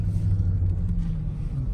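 A 2018 Dodge Durango SRT on Mopar lowering springs rolls over bumps, a continuous deep road rumble and low engine drone heard from inside the cabin, steady without distinct thumps.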